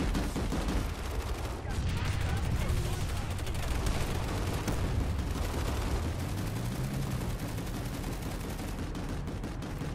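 Dense gunfire from the PlanetSide 2 video game, sustained automatic shots and booms layered into a loud, continuous battle din with voice chatter mixed in throughout.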